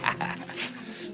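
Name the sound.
dog whimpering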